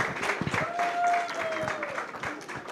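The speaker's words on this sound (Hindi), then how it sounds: "जोरदार तालियां हो जाएं" An audience claps at a Hindi film music launch, a short burst of scattered applause mixed with crowd noise and a faint tonal whine.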